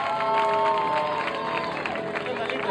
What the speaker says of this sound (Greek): ένα χειροκρότημα για τον Πολωνό